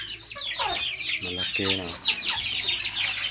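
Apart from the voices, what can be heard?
pet chickens clucking in coop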